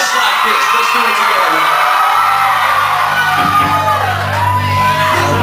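A concert crowd at a rock show in Ft. Lauderdale screams and yells loudly and continuously, with whoops and shouts over a dense roar of voices and a band's tones rising underneath.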